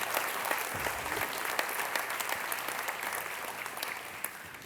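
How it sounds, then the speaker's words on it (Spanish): A church congregation gives sustained, dense applause for the whole stretch, close and steady, fading slightly at the end. "denle un fuerte aplauso al Señor."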